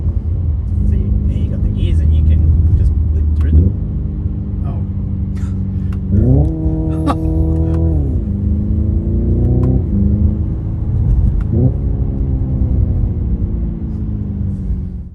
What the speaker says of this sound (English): the fake noises and gear changes, while quite convincing from a technical perspective, were also utterly ludicrous in an EV